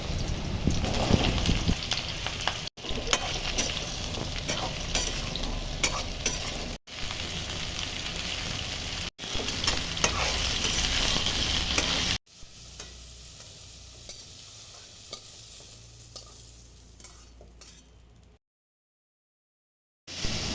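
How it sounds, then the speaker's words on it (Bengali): Drumsticks frying with a little salt in mustard oil in a wok, a loud continuous sizzle broken by brief cuts, then a quieter softer sizzle before it falls silent. "কড়াইয়ে সর্ষের তেল দিয়ে গরম হলে ডাটা অল্প নুন দিয়ে ভেজে তুলে নেব"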